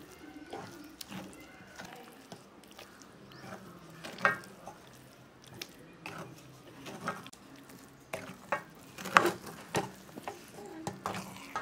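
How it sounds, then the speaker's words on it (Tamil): Soft sizzling and crackling of mango ginger pickle frying in a pan, with scattered pops and stirring clatter, fairly quiet and close. "ஊறுகாய் வந்து நல்லா வதங்கிட்டு இருக்குது."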